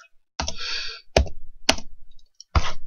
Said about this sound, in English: I need to type